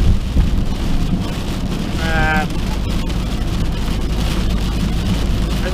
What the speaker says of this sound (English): It's raining, it's freezing cold.